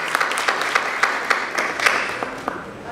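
Audience applause at a film gala night, a steady wash of clapping from a crowd indoors with scattered sharper claps standing out, continuing for the whole stretch at moderate loudness.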